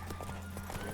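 A horse gallops in The Witcher 3 video game, its hooves beating a steady rapid clip-clop rhythm up close against a constant background hum.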